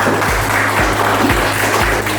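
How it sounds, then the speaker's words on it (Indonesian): Brief, loud applause from students closing a school project session, steady clapping throughout the short burst with a low hum and a few dull thumps underneath. "tepuk tangan untuk kita semua"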